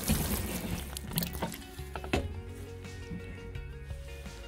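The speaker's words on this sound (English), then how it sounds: "Give them a good soak." Water poured from a watering can onto celery seedlings in a raised garden bed, a steady close splashing and trickling into soil that runs throughout, with a few brief sharper clunks early on.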